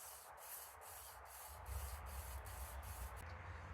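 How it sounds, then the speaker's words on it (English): Fine 800-grit sandpaper is wrapped around an engine crankshaft journal and worked back and forth. It makes a faint, steady rhythmic hissing rub with regular strokes over a low background rumble. "you take the sandpaper, wrap it around the journal, and then you just back and forth"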